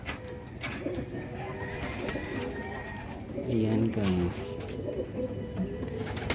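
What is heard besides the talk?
pigeons cooing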